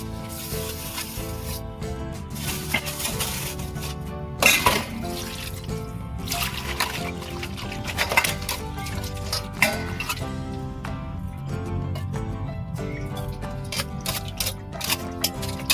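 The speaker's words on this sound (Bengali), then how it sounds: "এবার আমি জল দিয়ে ধুয়ে নেব" Polished brass plate rinsed under running water, with steady splashing, trickling and occasional metallic clinks, close by, over continuous background music.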